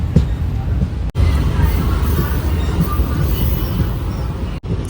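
An Intercity Express train rolls steadily along its route near Tirupati, giving a loud, continuous rumble of wheels and carriages with short dropouts. No one speaks.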